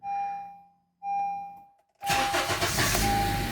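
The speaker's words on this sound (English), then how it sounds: "we're going to start the engine, let it run for a few seconds" A Honda CR-V chimes twice with warning dings, then the starter cranks and the engine catches into a loud, close idle while another chime sounds over it.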